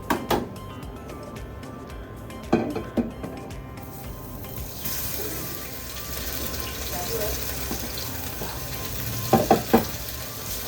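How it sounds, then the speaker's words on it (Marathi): Food frying in a little oil in a home kitchen pan, a steady sizzle running throughout with occasional stirring clatters and brief louder bursts near the start and end. "हे मस्तपैकी असे आता फ्राय करत ठेवलेत."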